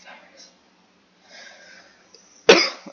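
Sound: cough

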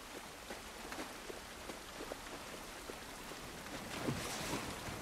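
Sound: rain falling outdoors in video game The Last of Us Part I

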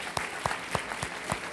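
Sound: audience applause for a guest

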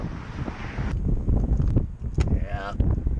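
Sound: cold wind blowing

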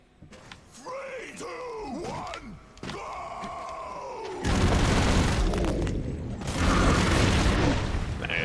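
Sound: rocket explosions in the video game Broforce

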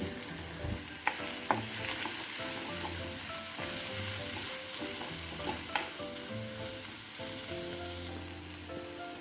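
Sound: frying grated coconut with spices in a pan

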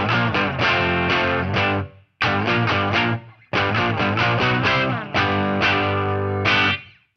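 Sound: guitar through amp speaker with slashed cone, distorted

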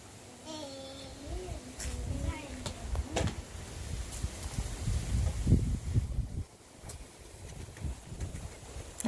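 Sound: wind blowing outdoors

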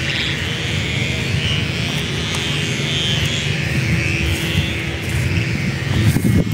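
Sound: humming buzz of kites flying at the beach

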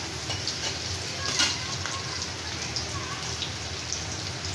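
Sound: onions frying in a pan

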